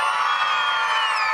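A big group of children cheer and shout together at a Galway-area All-Ireland Final preview event, a steady, loud, sustained crowd roar of young voices with no break.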